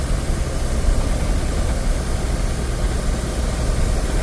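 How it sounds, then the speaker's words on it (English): A truck running with its exhaust brake engaged while slowing on a road, a steady loud low engine roar and broadband rumble throughout with no talk. "Exhaust brake, let's get it slowed down a bit."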